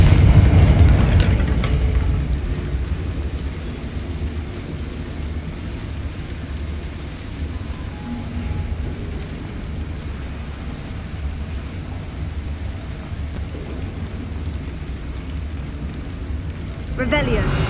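A Bombarda spell explosion in Hogwarts Legacy erupts with a loud, sharp burst, then fades into a long, low rumbling roar that holds steady before a final swell at the end.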